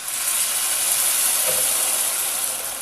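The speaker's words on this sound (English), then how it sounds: "That sizzle is the broth hitting that high heat." A loud, steady hiss of chicken broth sizzling as it hits a hot pan over high heat, unbroken throughout with no voices.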